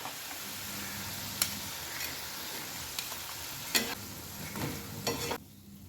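Cauliflower 65 pieces deep-frying in hot oil give a continuous close sizzle, with a few sharp clinks and scrapes of a utensil against the pan before the sound cuts off near the end.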